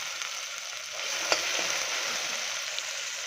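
Onions fry with ginger garlic paste in hot oil for a mutton curry, making a soft, continuous sizzle close by. A faint tap or two of stirring sounds partway through, and no voice is heard.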